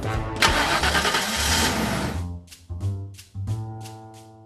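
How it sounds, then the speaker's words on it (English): Cartoon jungle car in a Daniel Tiger children's video game starting up: a burst of cranking and engine roar, then a chugging, puttering idle with rhythmic pulses, loud and alone. "A jungle car! Let's drive!"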